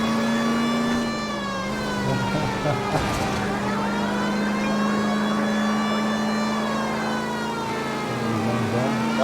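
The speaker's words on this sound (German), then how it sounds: "Mach direkt Sirene, Bro." A police car siren in the 1940s Los Angeles crime video game L.A. Noire, a steady, loud, continuous wail over engine noise, with players talking in German at times.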